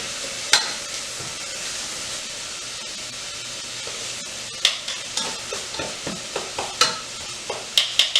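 Onions for a tomato sauce sauté in a pan, a soft continuous sizzle broken by a series of close spoon scrapes and knocks against the pan, growing more frequent toward the end.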